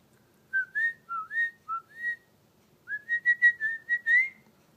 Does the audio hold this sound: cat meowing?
no